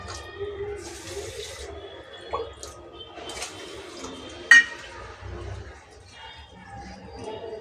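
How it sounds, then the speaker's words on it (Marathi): Rice is rinsed by hand in water, with soft sloshing, swishing and a few splashes and drips in a quiet indoor kitchen, alone with no speech. "आता तांदूळ धुवून घेते"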